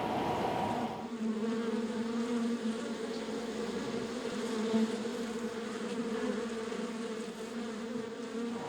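Thousands of honeybees buzz around a rooftop hive atop a building in downtown Seoul, a steady, close, layered drone after a brief louder opening, continuing evenly without pause.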